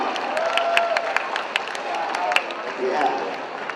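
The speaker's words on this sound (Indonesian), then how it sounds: "Tepuk tangan." An audience at a political gathering in Surabaya applauds, with scattered claps over a busy crowd murmur and voices.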